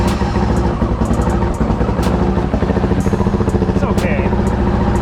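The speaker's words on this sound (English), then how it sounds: "I'm gonna show you what it sounds like with the stock exhaust. The baffle is out." Honda CRF450RL motorcycle engine running with its stock exhaust and the baffle removed: a steady, loud, close idle with a throaty, pulsing rumble, and a brief spoken remark over it.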